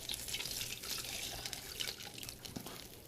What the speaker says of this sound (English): So I'm going to pour the oil from here into this container.